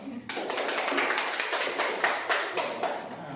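Classroom students break into a short burst of clapping after a microteaching exchange, brisk uneven claps from a small group starting abruptly and continuing for a few seconds, with some voices mixed in.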